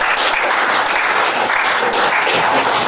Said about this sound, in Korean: 뜨거운 박수로 한번 환영하겠습니다